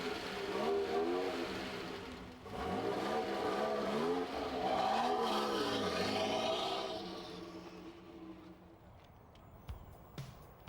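A Ferrari 288 GTO supercar engine revs and accelerates hard at a test day, a loud sustained roar with rising and falling pitch through gear changes, then fading into the distance.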